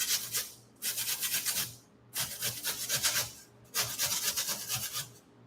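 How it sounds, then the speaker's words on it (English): A potato is grated by hand on a kitchen grater in three rhythmic bursts of scraping strokes, each lasting about a second or two with short pauses between them. The scraping is close and fairly quiet, with no talking. "So I'm gonna take my grater and I'm gonna grate."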